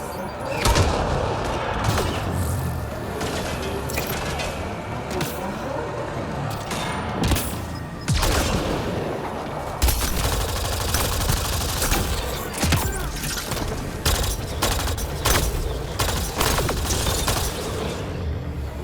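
Grenade blasts and sustained gunfire from a Mass Effect Andromeda battle on the icy planet Voeld: a dense, continuous barrage of shots and bursts, with sharp impacts and booms cutting through.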